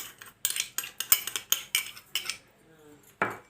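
A spoon scraping and clinking against a bowl while mixing a potato mixture with chili flakes and sesame seeds, rapid close rhythmic strokes ending in a final clank, with no voices.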